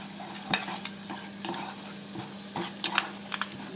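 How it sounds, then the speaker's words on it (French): A pork roast sauce is stirred in a pan, with a spoon scraping and clinking against the metal in a few scattered strokes over a soft, steady simmer. The sound is close and fairly quiet, and nobody speaks. "Ensuite, on remélange"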